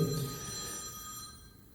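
Indoors, a telephone bell rings with a steady tonal trill, faint and somewhat distant, fading over under two seconds with no talking.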